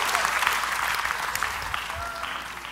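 A crowd claps steadily at a church sermon on the Kingdom concept, a dense continuous patter that eases off slightly toward the end.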